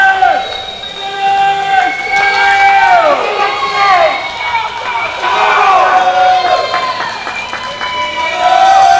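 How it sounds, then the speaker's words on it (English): Spectators at a collegiate swimming meet cheer and whistle loudly during the final laps of a women's mile race, a dense, sustained crowd roar with rising shouts and shrill whistles. "the crowd cheers harder and louder for Sage as she's carrying through"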